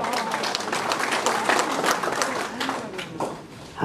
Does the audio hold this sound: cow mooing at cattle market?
no